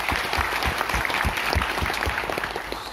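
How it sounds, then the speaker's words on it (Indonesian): Audience applause at a formal ceremony, dense steady clapping from a crowd filling the whole moment, with faint voices underneath. "Tepuk tangan."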